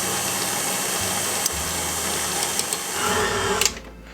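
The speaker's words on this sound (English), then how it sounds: "And the mixer does all the work." An electric stand mixer kneads pasta dough made with four eggs, a steady close mechanical whirring motor hum with a few clicks that ends in a brief clatter near the close.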